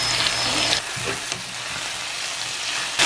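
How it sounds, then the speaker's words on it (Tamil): Long beans sauté in a pan with a continuous bright sizzle, broken by a couple of stirring scrapes and a short louder burst near the end. "திருப்பி இதை மூடி போட்டு இன்னும் வதங்க விடுவோம்."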